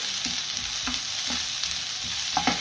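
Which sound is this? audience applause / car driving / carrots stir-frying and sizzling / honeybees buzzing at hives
carrots stir-frying and sizzling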